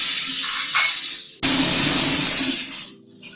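Diced, lightly parboiled potatoes hit hot oil in a pan over a low gas flame, setting off a loud, steady sizzle with a sharp burst partway through before it slowly fades.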